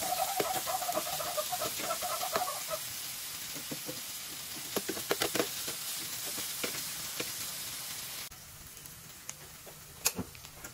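Ginger, onion and garlic sauté in a pan for native chicken tinola, giving a steady close sizzle with stirring clinks. A chicken clucks in the background early on.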